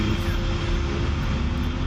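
Twin jet engines of an A-10A attack aircraft in the DCS flight simulator run at a steady idle, producing a continuous dense roar with a constant whine and no talk over it.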